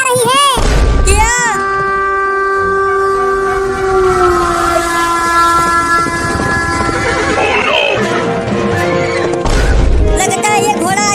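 Cartoon horse neighing loudly, with two sharp whinnies at the start and another near the end, framed by heavy thuds, while a long wavering call and busy background noise fill the middle.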